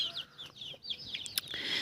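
Young chicks from a Cochin and meat-egg hen cross, the oldest brood out on a run at feeding time, cheep in a stream of high, rising and falling peeps close by, with a few soft clucks and no talking.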